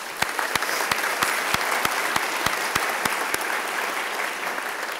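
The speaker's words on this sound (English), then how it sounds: "So please join me in giving everybody a nice round of applause." An audience at a business and community ethics awards ceremony claps steadily, a dense crowd wash punctuated by a few sharp close hand claps, fading gradually over several seconds.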